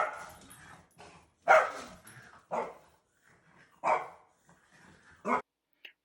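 A dog barks in a quiet room, sharp single barks and yips spaced irregularly, five or six in all, close and clear with short whimpery sounds between.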